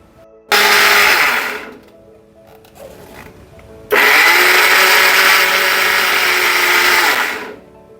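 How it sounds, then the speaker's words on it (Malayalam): A mixer grinder whirs loudly in two bursts as it grinds ripe mango for pachadi into a coarse paste in a small jar, with a short pause between the first run and a longer second run. "ഇത് നമുക്ക് മിക്സ് ചെയ്ത് ചെറിയ ജാറിലിട്ടൊന്ന് അരച്ചെടുക്കാം"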